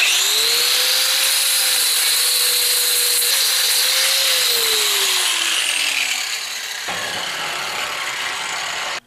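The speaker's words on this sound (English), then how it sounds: "I've got a flat disc on my grinder, and we're gonna clean this up." An angle grinder with a flat disc works a metal piece clamped in a vise, a loud, close whine with a gritty grinding rasp that sags in pitch under load, then eases off and cuts out at the end.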